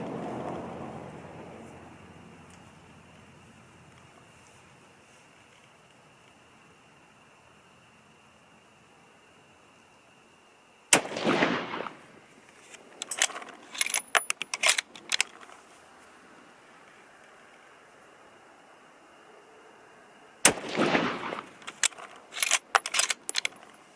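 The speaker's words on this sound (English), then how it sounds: "So here we go, first 3 shots." Two sharp, loud rifle reports from a Christensen Arms MPR in 6.5 Creedmoor fired at a target range, well spaced, each followed by clattering and mechanical clicks of the action, with quiet wind noise before the first shot.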